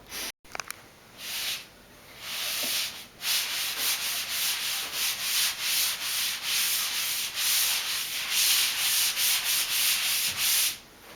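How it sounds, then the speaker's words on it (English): Damp sponge wet sanding drywall while bullnose rounded corners are installed in a house build, a steady rubbing hiss in repeated strokes, close and alone after a brief knock at the start. "We're wet sanding drywall."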